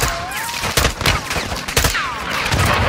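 Rapid gunfire rattles through a Call of Duty Modern Warfare 2 campaign battle near a bridge, dense overlapping shots and bursts with radio chatter and whistling incoming fire layered over continuous combat noise.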